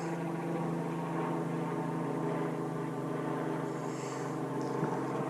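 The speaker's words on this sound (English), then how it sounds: "Man, the helicopters today are like non-stop." Steady droning engine with a low rotor hum, continuous and fairly loud, as a helicopter flies overhead without letting up at Big Bear Lake.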